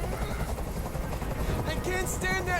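Helicopter in the video game Detroit: Become Human, a loud steady rotor thrum and drone filling the scene, with a voice speaking over it.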